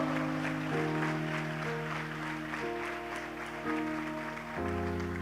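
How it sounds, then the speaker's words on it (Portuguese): A church congregation applauds, a sustained wash of clapping under held keyboard or organ chords that shift a few times, at a moderate level. "Você pode dar um aplauso bem forte ao Senhor?"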